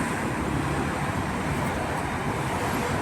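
Road traffic on Madina Road in Jeddah, Saudi Arabia, a steady dense roar of passing cars and heavier vehicles, loud and continuous with no clear individual passes or voices.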